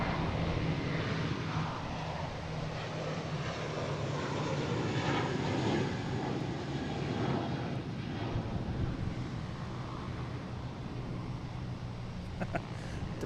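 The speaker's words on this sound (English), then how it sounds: "I was looking at the JetBlue because it's already here, and that's what we're going to hear the most." A JetBlue airliner's engines run at Boston Logan International Airport, a continuous broad roar heard from a distance with some wind buffeting on the microphone.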